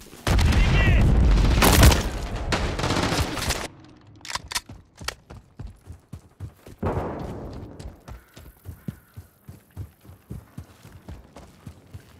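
A deep, loud grenade blast booms in a PS5 shooter game, followed by a long rattle of scattered gunshots and thuds fading into sparser pops, with a player's voice shouting over the opening.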